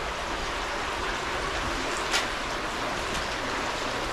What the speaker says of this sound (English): the water's flowing so much harder